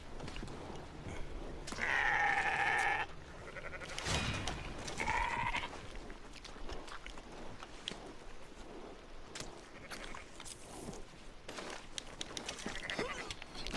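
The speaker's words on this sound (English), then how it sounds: "I'm going to take them off of these sheep right here in Valentine." Sheep bleat in the town of Valentine in the video game Red Dead Online: two clear, wavering bleats close by, each about a second long, then scattered footsteps and faint ambient clicks, with no talking.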